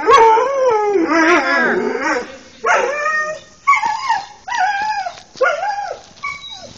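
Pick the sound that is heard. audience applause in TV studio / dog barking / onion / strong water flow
dog barking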